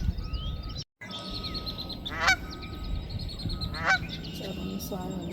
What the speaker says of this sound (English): Canada geese over here.